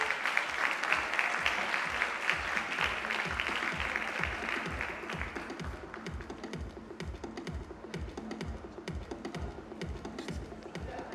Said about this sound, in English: a parting round of applause for our wow celebrity of the year